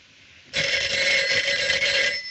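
A telephone bell rings in a French-language radio drama, one sustained ring starting suddenly after a quiet moment and holding for nearly two seconds, clear and close.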